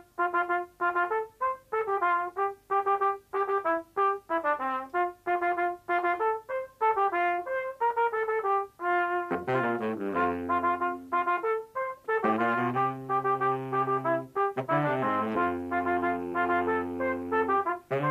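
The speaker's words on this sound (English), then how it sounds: "I'm going to join him on my great big baritone saxophone." Trumpet and a big baritone saxophone play a familiar song together, bright trumpet melody over deep low sax lines that join in about halfway, steady and close with no talking.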